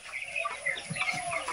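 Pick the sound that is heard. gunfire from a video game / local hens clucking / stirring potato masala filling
local hens clucking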